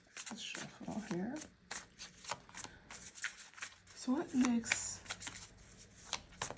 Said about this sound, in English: Let's shuffle here.